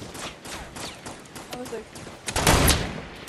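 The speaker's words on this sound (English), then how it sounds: "I'm getting shot at." Gunfire in a Fortnite match crackles as scattered shots through the first half, then a louder burst of rapid fire near the end, with players talking over it.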